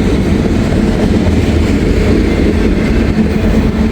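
A train rips past trackside in Walton, with a loud, continuous low rumble and rattling wheels that holds steady and close throughout.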